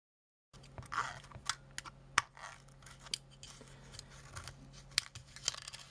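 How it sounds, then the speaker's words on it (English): A vintage Russian SLR camera body being pulled apart by hand, with a busy run of small clicks, snaps and scraping crackles as parts are ripped out, close by and irregular. "So I think probably what I'll do is I will just rip this out of here."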